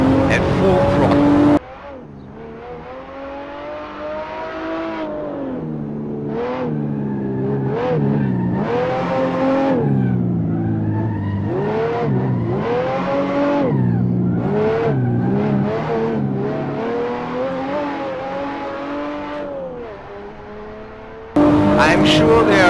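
A rear-wheel-drive car drifts through a corner at full throttle, its engine roaring steadily with rising and falling revs over most of the stretch, loud and close, while a person talks over it.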